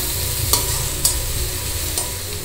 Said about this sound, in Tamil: வெங்காயம் இஞ்சி பூண்டெல்லாம் நல்லா வதங்கிடுத்து